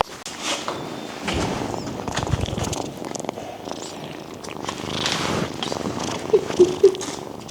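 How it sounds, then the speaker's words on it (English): Mater the cat purrs steadily and close up for several seconds, with a few soft clicks and light handling noises near the end. "Let's hear you purr."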